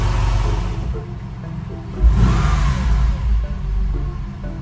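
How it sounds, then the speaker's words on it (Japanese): A Porsche 996 Carrera engine idles, then revs up sharply around the midpoint and settles back, followed by a couple of smaller revs, close and loud. "ご覧の通り吹き上がりもいい感じです"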